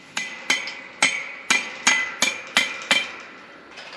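A hammer striking about eight sharp, ringing blows in a steady rhythm, close and loud with short pauses, outdoors on a homestead.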